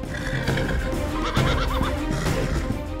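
A horse at the pasola tradition in Sumba, where riders throw spears, gives a loud whinny midway through, set against a dense, noisy backdrop of hooves and crowd.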